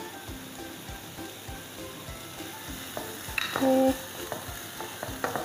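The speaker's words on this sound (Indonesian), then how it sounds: "Kita tinggal tumis sampai lemas dan harum ya baunya." Onion and minced garlic sauté in butter in a pan, giving a steady sizzle with occasional stirring clicks and a brief louder scrape near the end. A single short word is spoken.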